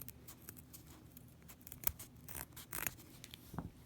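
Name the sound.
scissors cutting fabric near the stitching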